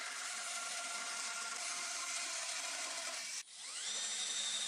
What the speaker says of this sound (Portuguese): Vou cortar tampões de 12 milímetros para preencher os buracos.